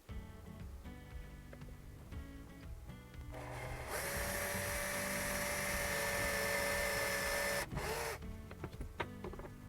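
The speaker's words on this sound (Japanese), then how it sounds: "それでは最初に下穴ドリルで誘導用の穴を開けていきます" An electric drill bores a pilot hole into a round steel bar through a simple drill guide, a loud, steady high whine holding for about four seconds before cutting off, with quieter machine hum around it.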